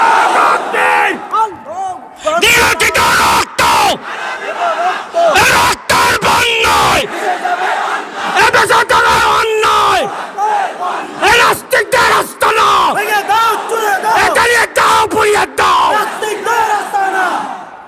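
A rally crowd roaring a chanted religious reply in unison, bursts of massed shouting alternating with a lone amplified voice calling out, the cries rising and breaking off in repeated waves at a Victory Day gathering in Bangladesh.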